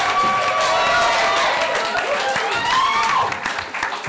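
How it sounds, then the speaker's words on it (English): A crowd at a live digital awards event applauds steadily with dense clapping and some cheering, while voices call out over it before the noise begins to fade. "So, round of applause. Well done, guys."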